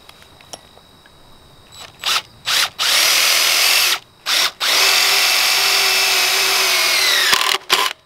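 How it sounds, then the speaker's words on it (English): A power drill bores bolt holes into concrete for sill plates in several bursts, the first short and choppy, then two long loud grinding runs separated by brief pauses. "Five more holes to drill."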